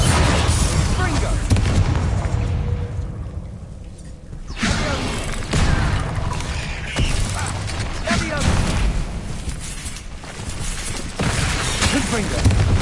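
A Bombarda spell explosion in Hogwarts Legacy, with a loud boom rising out of a dense, continuous mix of game combat effects. Other spell blasts and clatter fill the whole stretch, and a voice is heard at moments.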